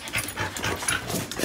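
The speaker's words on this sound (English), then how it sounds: "You guys are just sitting up here barking." Dogs close by make a short burst of excited vocal noise, sounding more like rapid panting and whining than clear barks, at moderate volume and without talk.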